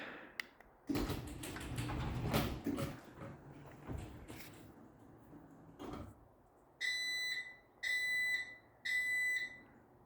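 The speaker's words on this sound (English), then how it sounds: "So it beeps 3 times, and then force it'll beep 5 times" Three short bursts of high electronic beeping from a garage door opener sensor during a test, evenly spaced, follow a stretch of clattering and rustling handling noise up close.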